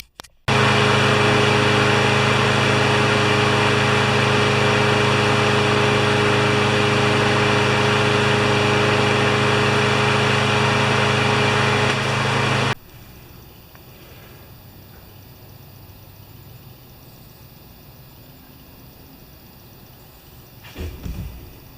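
A Craftsman mower engine, an older machine, runs loud and steady with a strong harmonic hum for about twelve seconds, then cuts off abruptly, leaving faint room noise and a few small clicks near the end.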